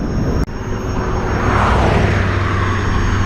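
Strong headwind roaring past the rider of a King Song 18L electric unicycle, steady loud broadband wind rush with low buffeting, one sharp click early on.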